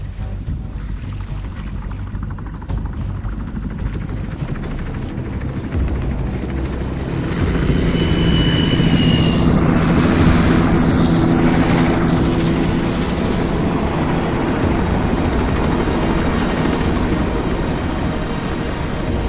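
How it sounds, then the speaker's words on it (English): A video game attack helicopter's rotor drone builds steadily, growing louder and closer midway, with a low rumbling hum and whooshing overhead passes. "Class attack helicopter, a tank killer."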